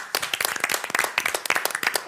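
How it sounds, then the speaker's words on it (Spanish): Studio audience applause on a live Argentine television talk show: steady, dense clapping from many hands, close and fairly loud, running without a break for about two seconds. "Bueno, chicos, un aplauso."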